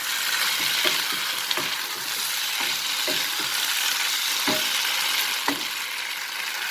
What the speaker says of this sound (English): Toss it over high flame and it is ready now.